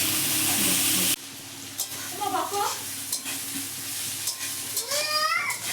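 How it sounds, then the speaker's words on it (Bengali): Green beans stir-fried in a pan: a loud sizzle cuts off after a second, followed by quieter scraping and stirring clatter with faint squeaky tones. "তো এখন মতো নেড়ে চেড়ে নেবে বিনসগুলো।"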